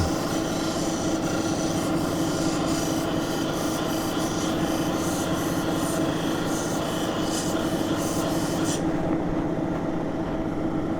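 Lake Superior agate rubbed on 280 grit abrasive gives a steady, close, rasping scrape that runs without pause for about nine seconds, then eases off, with no talking.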